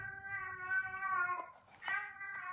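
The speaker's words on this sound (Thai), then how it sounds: "มีเสียงแมวเหงาด้วย" A domestic cat meows at home in a lonely, drawn-out way, with several tonal cries in succession, close and fairly clear, with no talking over them.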